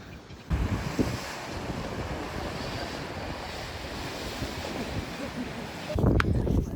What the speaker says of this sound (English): Got some wind blowing